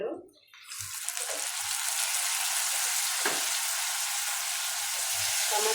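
Mutton pieces fry in a pan for a spicy mutton drumstick curry, giving a steady, fairly loud sizzle that runs almost the whole time after a short quiet start, with a few soft thumps of stirring.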